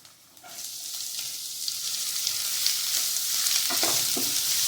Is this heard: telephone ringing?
no